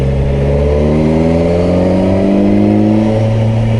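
A 2021 Kawasaki Versys 1000 SE Grand Tourer motorcycle accelerating in fifth gear, its engine note climbing steadily in pitch as a loud, continuous, close roar with strong wind rush and no voices.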